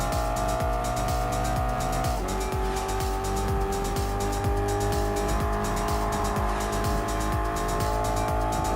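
A race car in Gran Turismo Sport circles a track in an online lobby race, its engine droning loud and steady with rhythmic gear pulses and occasional tire squeal.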